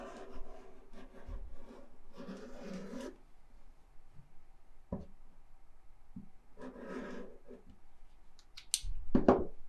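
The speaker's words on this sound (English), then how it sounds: "Put on those folded edges again and cut again." Scissors cut through folded fabric edges in several separate stretches of crisp snipping and rustling, close and fairly quiet, with brief pauses between cuts.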